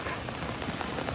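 Rain pouring in Manas National Park, a dense, even hiss of drops striking surfaces, close and steady throughout without a break.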